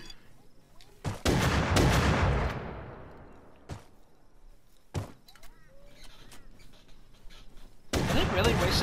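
Video game gunfire during a base raid: a cluster of loud shots early on, then scattered single reports and a final sustained burst, with reverberant tails and quiet gaps between.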